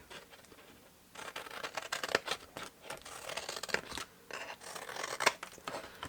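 Scissors cutting cardstock for a picnic basket: close, crisp snipping and slicing strokes in short bursts with small pauses, quiet and with no talk.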